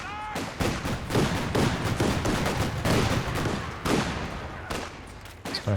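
Sniper shots and sustained gunfire crackle through a Company of Heroes 2 1v1 battle, dense repeated reports and impacts, fairly loud and steady throughout with several sharper individual cracks.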